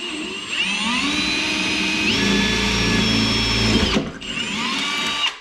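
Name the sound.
power drill drilling hole with bit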